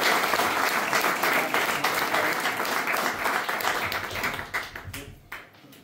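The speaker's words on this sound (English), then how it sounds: "Please give a very, very warm round of applause to the Mayor of Tralee" An audience applauds warmly for the Mayor of Tralee, Terry O'Brien, at the launch of a book about jockey Bernard Dillon. The clapping is loud and sustained, then thins and fades out near the end.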